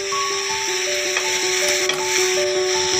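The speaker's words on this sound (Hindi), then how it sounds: "चलें जी, अब इनको अच्छी तरीके से हम भून लेते हैं।" Peas fry in a pan with spices and Sindhi biryani masala for matar pulao. A steady, soft sizzle runs throughout, with light stirring scrapes, over faint background music and no speech.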